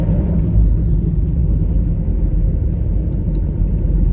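A car on the road heading to a farm, its cabin filled with a steady low rumble of engine and tyres, loud and continuous with no voices.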